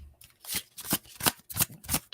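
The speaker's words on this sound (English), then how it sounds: "Shuffling cards." A deck of playing cards is riffled and shuffled up close in several quick, crisp bursts, each a brief rattling flutter separated by short pauses.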